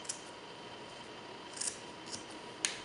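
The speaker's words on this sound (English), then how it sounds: "I'm going to go ahead and trim off the excess" Scissors snip off excess knotted string on a nautical fishnet-covered mason jar, giving four crisp, close clicks spaced irregularly over a quiet background.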